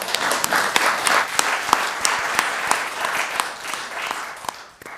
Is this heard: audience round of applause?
yes